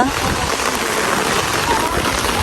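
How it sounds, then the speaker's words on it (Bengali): Heavy rain falls steadily, making a dense, even hiss that fills the whole short stretch without pause. "সকাল থেকে বৃষ্টি হচ্ছে এখানে"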